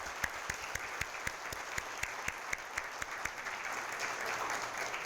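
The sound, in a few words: audience applause at graduation ceremony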